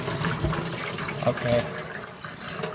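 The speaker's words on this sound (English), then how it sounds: "if water really flows through this, you can see at the bottom that water completely goes through" Water pouring and trickling through a homemade fish tank filter, a continuous splashing gurgle with a brief spoken word over it.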